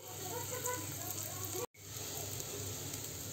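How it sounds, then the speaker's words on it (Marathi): Homemade masala with garam masala powder fries in oil with a soft, constant sizzle, faint and steady, briefly cut by a short break. "मसाला आता मस्त असा मसाला तेल सोडत आहे"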